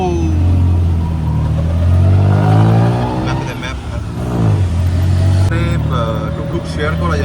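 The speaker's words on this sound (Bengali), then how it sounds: "টোটো কি আওয়াজ দিই ভাই, বাইকের মতো আওয়াজ হয়" A tuk-tuk engine in Bangkok revs loudly from inside the cab as it pulls away, its pitch rising and falling through gear changes like a motorbike, with passengers talking over it.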